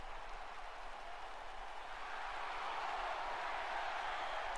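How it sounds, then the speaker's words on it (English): Crowd noise in an AEW wrestling video game: a steady, broad roar of an arena audience chanting and cheering, continuous and fairly distant throughout, slightly swelling toward the end. "He's still got the crowd chanting with him here."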